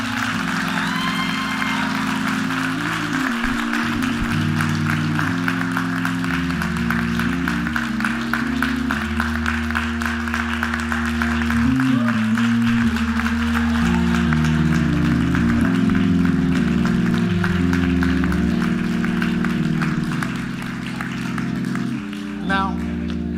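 A church congregation at a Sunday gathering claps steadily for youth coming forward, sustained applause running the whole time beneath loud music and a voice talking.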